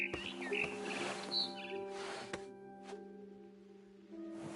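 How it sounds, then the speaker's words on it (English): A barn swallow chirps in What Remains of Edith Finch, giving a few quick, bright calls over a soft, hushed game soundscape with low tonal hum, fairly faint. "Then I heard chirping outside my window. It was a barn swallow going back to her nest."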